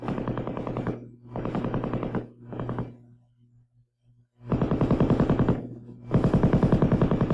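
An M60 7.62 mm belt-fed, gas-operated machine gun fires in several long automatic bursts of rapid, evenly spaced shots, loud and close, separated by short pauses.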